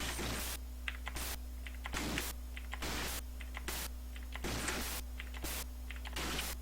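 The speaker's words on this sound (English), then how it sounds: "Every time you run sfx keystroke, it picks a different clicky sound from a sample full of keystrokes." Keystroke click sound effects played from a Raspberry Pi, heard as repeated bursts of clicky typing at a regular pace over a constant electrical hum and noisy audio output.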